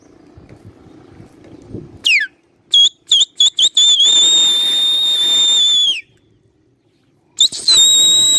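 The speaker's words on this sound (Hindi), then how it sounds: "कबूतर उठाते हैं अभी।" Pigeons released at a Karachi kabootar bazi loft, with loud close whistles and shrill bursts around the launch, including one long sustained tone; the flapping of wings is not clearly heard.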